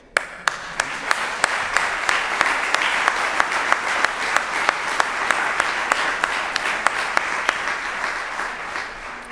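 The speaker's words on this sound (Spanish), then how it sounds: "ya que le hicieron un aplauso, yo le hago otro" Steady applause fills a presentation hall for Mercedes Goicoa, a full round of clapping that holds evenly for several seconds with a few sharper individual claps standing out.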